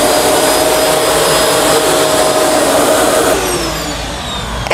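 A Shark NV352 upright vacuum cleaner runs close up, picking hair off the floor with a loud, steady motor whine and rushing airflow that dips slightly in pitch toward the end.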